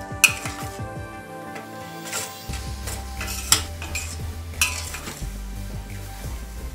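A spoon stirs carrot halwa in a metal pan, scraping and clinking against the sides in an uneven rhythm, with sharp knocks now and then over a faint sizzle.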